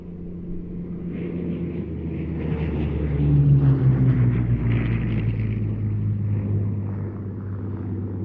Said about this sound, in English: This aircraft is owned by the Historic Aircraft Collection and based here at the Imperial War Museum in Duxford.